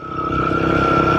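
A Royal Enfield Guerrilla 450 motorcycle fitted with an aftermarket exhaust pipe revs up, its engine note building from a low rumble into a loud, steady drone with a sustained whine close by.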